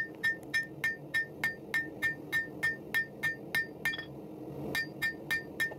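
Steel knife blade tip for a drop-point recurve knife hammered on an anvil during forging: a steady run of sharp, ringing metallic strikes, about two per second, with a brief pause before the blows resume, close and clear with no talk.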